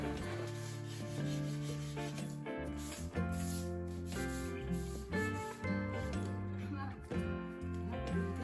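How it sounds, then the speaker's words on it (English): Wooden bookshelf edges being shaved and rounded off by hand, a repeated rubbing, sanding-like scrape in steady strokes, heard under prominent background music. "still working on her bookshelf, shaving and rounding off the edges"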